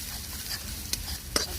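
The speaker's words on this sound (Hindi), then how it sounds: "अब चलाना है। लहसुन डाल के" Garlic sizzles in hot oil in a pan beside ground onion for a Bengali prawn malai curry, with a steady low fry hiss broken by two sharp scraping stirs of a spoon against the pan.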